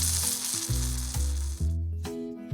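Skinless cod fillets frying on a Blackstone griddle give a steady, close, loud sizzle with brief cooking clatter, no voices.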